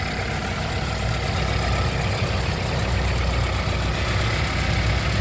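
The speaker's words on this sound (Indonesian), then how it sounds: "Ini nyala ya mesinnya ya. Suaranya enak banget." A 1995 Toyota Starlet with a 1.3 engine idles steadily nearby, giving an even, unbroken rumble with no voices over it.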